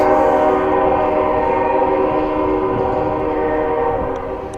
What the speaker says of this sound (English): You hear that train? It's trying to ruin my video.